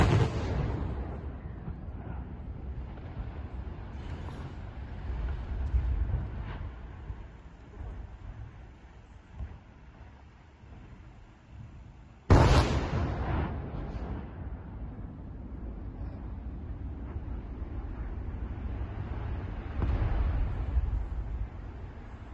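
A demolition blast brings down the cooling towers of a nuclear power plant near a village. A sharp, loud boom cuts through steady outdoor rumble partway through, followed by a long rolling roar that fades and swells again.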